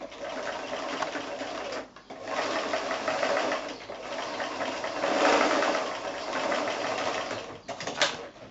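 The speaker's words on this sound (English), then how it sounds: "take that to the sewing machine and just stitch across" A sewing machine stitches across the end of a fabric lotus bag made from fat quarters, a steady close whirring hum that pauses briefly once, runs on, and cuts off near the end.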